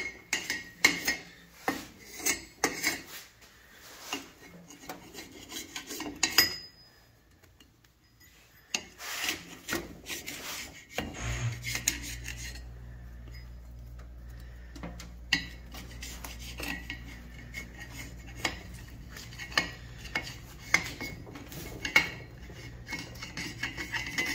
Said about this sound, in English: this is a carbide tool we got off Amazon. And we're going to use to scrape off the gasket real quick and simple